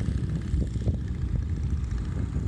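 A Hummel Ultracruiser ultralight aircraft in flight gives a steady, low engine drone with propeller buzz. It sounds somewhat distant and continuous, with no voices.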